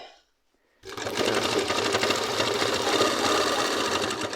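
A sewing machine stitches a petticoat, starting after a brief hush and running as a loud, close, continuous mechanical whir and rattle with no talk.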